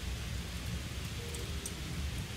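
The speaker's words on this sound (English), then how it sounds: "It's raining, at least." Steady, dense rain falls in the video game The Solus Project, a continuous hissing downpour with a low rumbling undertone, loud and even throughout without any voices.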